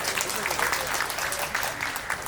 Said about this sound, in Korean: 네, 박수로 맞아주시기 바랍니다